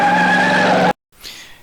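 A Plymouth Satellite skids hard at the start of a stunt jump, a loud, close tire squeal with engine tone that cuts off abruptly, followed by a fainter sliding sweep.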